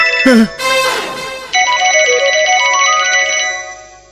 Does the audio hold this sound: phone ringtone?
yes